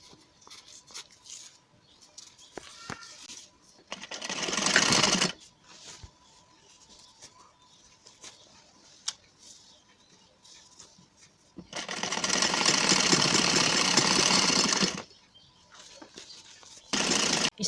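An electric sewing machine stitching a salwar runs in loud, steady whirring bursts of a few seconds each, separated by quieter gaps filled with soft handling and clicks of the fabric and machine.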